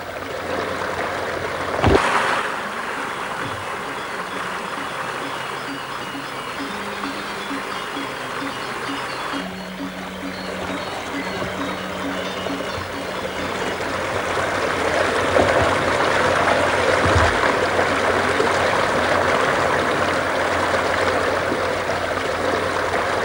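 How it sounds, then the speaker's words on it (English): Gravity-fed irrigation water in Bali rushes steadily through channels, tunnels and bamboo pipes with no pumps, a continuous loud flowing wash that swells toward the end, with faint tonal music in the background. "The pressure of the water is led through various channels, tunnels,"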